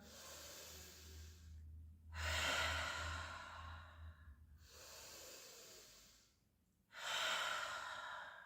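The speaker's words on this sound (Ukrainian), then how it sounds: "Довдихнули через ніс. Видих через рот. Або ха, або як свістулька." Slow breathing exercise: long audible inhales through the nose alternate with breathy exhales through the mouth, three close, soft cycles separated by short pauses, with no speech.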